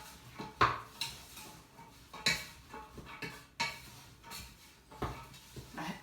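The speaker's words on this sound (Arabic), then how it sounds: "غادي نخلط الخليط بحال هكا" Repeated scraping and clinking of a utensil against a bowl while mixing spices and oil for zaalouk, irregular strokes, close up and alone.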